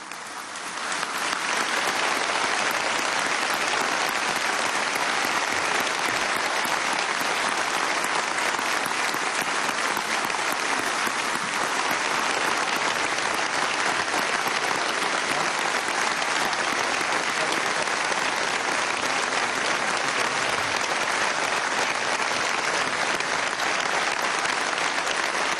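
A large crowd gives sustained, loud applause honoring the armed forces, a dense unbroken roar of clapping that holds steady for the whole stretch.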